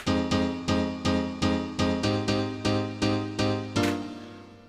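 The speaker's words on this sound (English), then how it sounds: "because the chorus piano sounds like this." Piano chords struck in a steady repeating rhythm, about ten even hits, each ringing briefly before the next, ending on a held chord.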